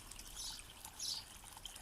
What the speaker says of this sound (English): the sound of the waterfall